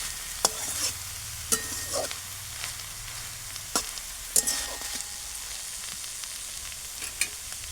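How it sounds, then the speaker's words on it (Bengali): Peas are stirred in a pan of cooking kohlrabi, with sharp utensil scrapes at irregular intervals over a soft, steady frying sizzle. "মটরশুঁটিটা দেওয়ার পরে আবার একটু ভালোভাবে নাড়িয়ে নেব"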